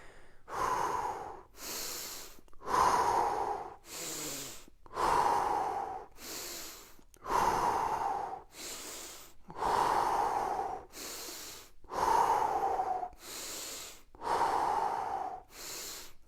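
Rhythmic sharp nasal sniffs during a seated breathing and mobility exercise, palms up, repeating about every second and a half, each a close, loud airy rush followed by a brief pause, with no talking.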